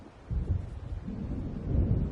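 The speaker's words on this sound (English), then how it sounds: "It seems there's a storm coming." Low rumbling thunder rolls steadily from an approaching storm in the video game Alan Wake, swelling gradually with no voices present.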